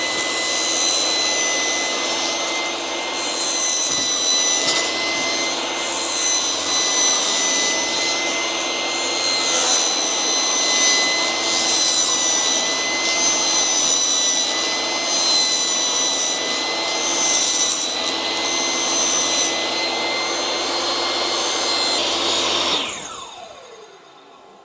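A power saw rips fascia boards to width, a loud, sustained high whine with repeated surges as each cut bites, then spinning down at the end, with no talk.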